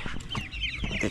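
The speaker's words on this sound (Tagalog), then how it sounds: "Ito yung manok na tinatawag na 45 days" A young broiler chicken of the kind raised for about 45 days clucks in short close bursts, several quick soft calls in a row with no talk around them.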